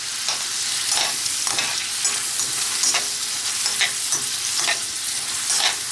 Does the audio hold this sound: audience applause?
no